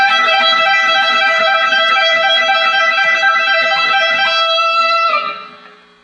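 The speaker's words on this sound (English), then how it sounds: "If you put the hammer-ons and the pull-offs together, creating a sound like this." Distorted electric guitar runs a rapid, continuous flurry of legato notes from combined hammer-ons and pull-offs, bright and sustained, close and loud, before ringing out and fading at the end.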